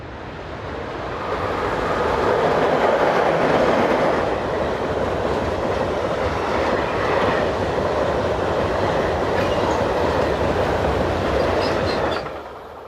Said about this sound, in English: The last remaining loco in the original green livery was number 11663. Here it passes through Egerkirchen with number 11629.